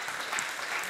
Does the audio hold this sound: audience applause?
yes